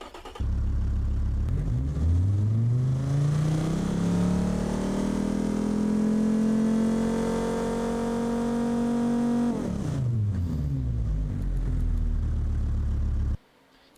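A simulated car engine in BeamNG's automatic engine test sweep. The revs rise steadily from a low rumble to a loud held high-rpm drone, then fall away smoothly and stop, with no talking.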